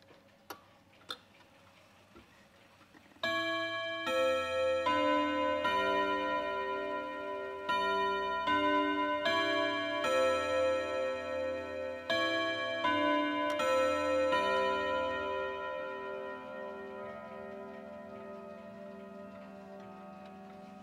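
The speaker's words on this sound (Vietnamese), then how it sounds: "Mời các bác cùng em nghe qua cái tiếng chuông mà chiếc đồng hồ Zhonghan này chơi lên." An antique Zhonghan wall clock strikes its gong, sounding a melodic sequence of bright ringing chimes that overlap and sustain with long, clear decay. Two faint clicks come before the chiming, and it fades out at the end.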